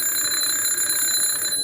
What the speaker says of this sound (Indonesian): This bell makes a sound like this.